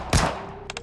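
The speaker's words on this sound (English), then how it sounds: "Gunfire." Gunfire in the Nikke Resident Evil collaboration game: one loud, close gunshot boom with a short decaying tail, then a quick burst of three sharp shots.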